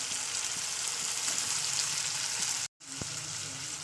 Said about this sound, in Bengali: তো আদা রসুনটা দিয়ে আমি আবার তেলের উপরে ভালো করে কষিয়ে নেবো।